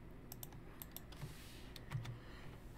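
Quick, close-up keystrokes on a computer keyboard as a password is entered, a brisk irregular run of light clicks with no talking.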